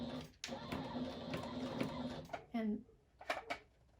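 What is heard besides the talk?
sewing machine stitching fabric mask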